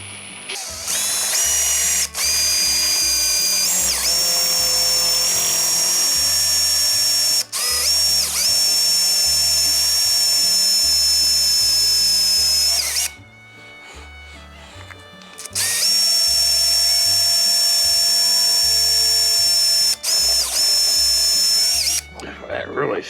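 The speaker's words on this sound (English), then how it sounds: "we're going to take this 5/16 drill bit and slowly try to drill through the center here" A power drill with a 5/16 drill bit slowly boring through the center of a VW distributor: loud, sustained whining runs, with a brief pause midway before drilling resumes close up.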